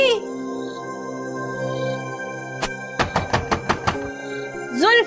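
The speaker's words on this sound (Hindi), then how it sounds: "जुल्फी के बच्चे, दरवाजा खोल।" Rapid series of about seven sharp knocks on a door, close and loud, preceded by a single knock, set against a steady tonal background with a voice at the end.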